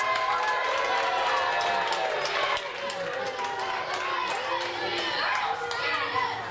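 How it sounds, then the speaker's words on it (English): A wrestling crowd at the W3L 7 Deadly Sins 2018 show jeers Euan G. Mackie with loud, continuous shouting and mixed voices, including high-pitched yells, sustained throughout. "The crowd obviously do not like the very good Mr. Euan G. Mackie, as you heard."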